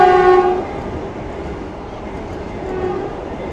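A Vande Bharat express train passes through an Indian railway station with people boarding nearby. A loud horn blast opens, then gives way to a steady rolling rumble of the passing coaches.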